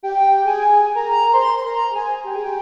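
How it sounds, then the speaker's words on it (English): Massive X software synth flute patch playing a short, smooth legato melody, sustained notes gliding from one pitch to the next, clean and close for under three seconds. "So I've loaded a Massive X flute patch,"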